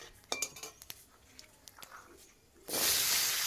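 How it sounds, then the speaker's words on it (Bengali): Vegetable curry drops into hot oil with a little panch phoron and starts frying in a loud, sustained sizzle, after a few sharp clinks of a utensil against the pan. "এই তেলের মধ্যেই তরকারিটা বসিয়ে দেব। অল্প একটু পাঁচফোড়ন দেব।"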